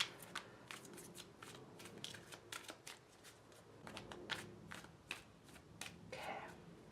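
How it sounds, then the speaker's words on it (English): A deck of tarot cards being shuffled by hand, with a run of crisp riffling and flicking bursts repeating at close range throughout, no voices over it. "Just a quick shuffle."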